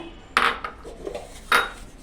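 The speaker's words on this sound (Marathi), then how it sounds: "आता आपण एका मिक्सरच्या भांड्यामध्ये ना शेंगदाणे टाकून घेऊया" Roasted peanuts and sesame seeds tip into a mixer jar in two quick clattering bursts, faint and close, with a softer rattle trailing between them.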